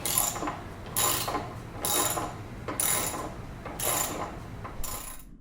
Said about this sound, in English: I got an extension on the ratchet driver, so let's see if we can get this guy out.